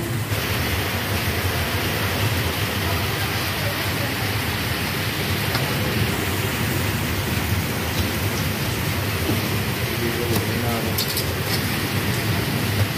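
Steady rain hisses loudly and evenly throughout, a dense wash of falling water close by.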